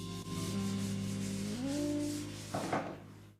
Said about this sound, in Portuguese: Após secar, tudo é lixado com lixa 240 para remover imperfeições.